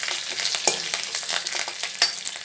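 Garlic and spices fry in hot oil for a village-style Odia pumpkin curry with curd, giving a steady close sizzle with scattered crackles and pops and the scrape of stirring, no voices.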